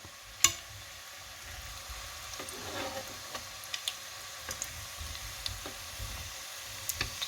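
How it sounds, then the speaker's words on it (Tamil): Potato bondas frying in hot oil, a soft steady sizzle with scattered sharp pops and crackles close by, no voices. "போண்டா பொறிஞ்சு கொண்டு இருக்கிற"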